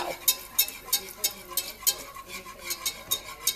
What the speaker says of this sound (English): so just keep whisking